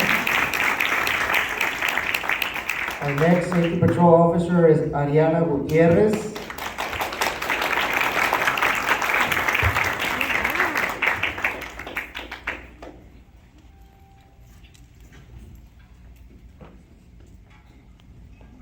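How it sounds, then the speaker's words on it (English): Applause for a school safety patrol officer at an event, a dense clapping wash under an announcer's voice, easing off and fading to near quiet toward the end. "Big round of applause for Melisanda Garcia."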